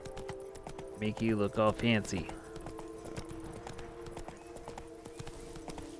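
Hooves of a horse clip-clop steadily through the Witcher 3 game world, with a short whinny early on, while someone talks over the trotting.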